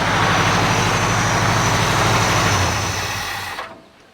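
An old International Scout with a new carburetor idles loud and close with a steady rumbling throb, then is switched off and winds down into quiet at the end.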